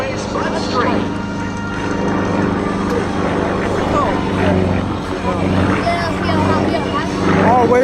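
A Sukhoi SU-31 aerobatic plane drones steadily overhead at an air show, its propeller engine a loud continuous buzz beneath an announcer's commentary.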